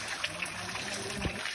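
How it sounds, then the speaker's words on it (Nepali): At a hillside Hindu temple, Shree Champadevi in Okhaldhunga, Nepal, water trickles down from above with a soft, continuous splashing hiss and a few small drips nearby. "यो चाहिँ यहाँ पानी झर्ने ठाउँ"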